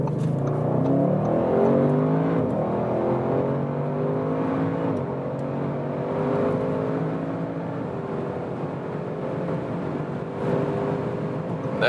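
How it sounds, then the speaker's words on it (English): A 2020 Audi RS6 Avant in RS mode pulls hard from low speed, its engine climbing in a steady, loud rising drone with gear changes breaking the pitch, close and sustained throughout, no talking. "we'll start at about 40 kilometers an hour"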